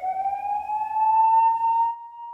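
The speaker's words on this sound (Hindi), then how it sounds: "आपातकालीन सायरन सुनते ही आप अपने सबसे करीब के आपातकालीन असेंबली पॉइंट पर जाएं" A steady wailing emergency siren at an ONGC facility holds a strong, bright tone that rises slightly and then sustains, loud and continuous with no voices.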